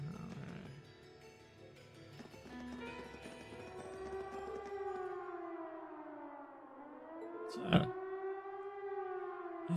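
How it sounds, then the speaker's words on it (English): A siren in the video game Legend of Heroes: Trails of Cold Steel wails, its pitch slowly sliding down and rising again in long sweeps, with a sharp knock partway through. "It sounds like a siren."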